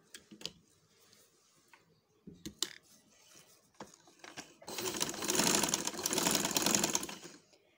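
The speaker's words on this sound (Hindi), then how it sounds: "अब इस साइड पर सिलाई लगाएंगे" A home sewing machine stitches fabric: scattered clicks and handling knocks at first, then a loud, continuous whirring run of the needle for the last few seconds.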